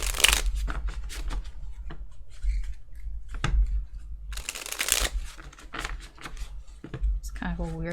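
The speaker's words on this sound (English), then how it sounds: "It's kind of a weird shuffle." Tarot cards are shuffled in an irregular way, making scattered papery clicks and riffles near the microphone while a voice talks over them.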